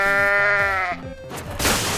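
A goat in the game Goat Simulator lets out a loud, close, wavering bleat that breaks off and then trails into a harsher, noisier cry, with no talking.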